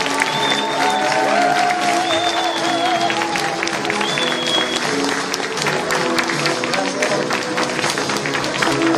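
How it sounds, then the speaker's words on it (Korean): A large audience claps loudly and continuously to welcome a speaker onto the stage at a business leaders' event, a dense sustained wall of applause under music that fills the whole stretch. "여러분 큰 박수로 모셨으면 좋겠습니다"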